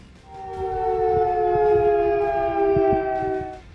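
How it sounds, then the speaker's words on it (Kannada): A civil defence air raid siren for a mock drill in Bengaluru wails in a long, steady tone that rises, holds and fades, loud and unbroken, with faint scattered knocks beneath. "ಬೆಂಗಳೂರಲ್ಲೂ ಮೊಳಗಲಿದೆ ಯುದ್ಧದ ಸೈರನ್"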